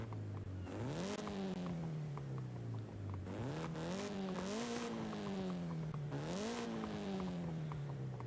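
A Ryuko S13 car on its stock exhaust revs repeatedly, the engine climbing in pitch three times and settling back toward idle between pulls, close, steady and alone.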